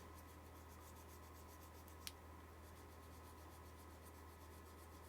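A plastic bobbin case part is rubbed and polished by hand with a little oil in a soft, rhythmic, faint scrubbing loop, broken by one sharp click midway, with no voices.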